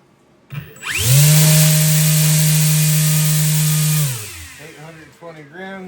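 Small RC electric motor driving a 9-inch four-bladed folding propeller on a thrust test stand, a loud high whine that spins up, holds steady for about three seconds, then winds down, with talk following.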